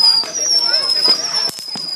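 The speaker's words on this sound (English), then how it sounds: "doing those fireworks down there" Nearby fireworks fizz and crackle with whistling streaks and several sharp pops, loud and close, mixed with people's excited voices.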